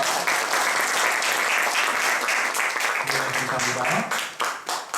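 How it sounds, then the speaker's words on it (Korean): A church congregation applauds during a Korean ordination thanksgiving service, sustained crowd clapping with a few voices murmuring underneath before the clapping tapers off in the final second. "박수로 영광 돌리겠습니다"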